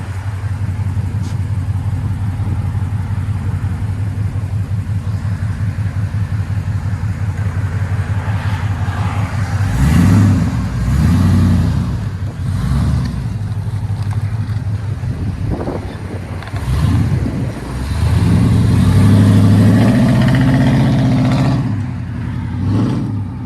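A 1998 Chevy K1500 Silverado V8 with long tube headers and straight pipes idles with a deep, lumpy rumble up close, then several sharp revs burst out, with some wind buffeting the microphone.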